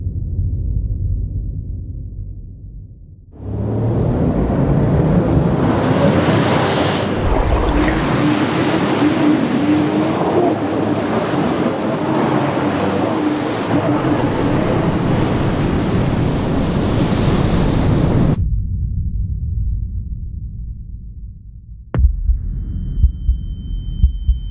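Surf at Jeffreys Bay roars as a loud, steady wash of breaking ocean waves that lasts about fifteen seconds, then drops away to a low background rumble with a few sharp knocks.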